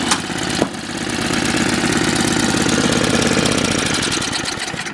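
An MTD snowblower's small engine idles at low speed, a steady close putter with a rhythmic chug, loud and alone.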